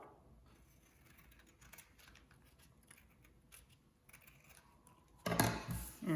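Scissors trimming the edges of woven paper strips, a run of quiet irregular snips and paper rustles close by, ending in a louder burst of paper handling.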